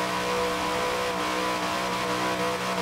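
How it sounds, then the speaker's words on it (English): A stock 1969 Dodge Charger Daytona in Forza Horizon 4 accelerates hard, its engine roaring loud and steady and climbing through the revs without a break. "Wow, look at this thing take off."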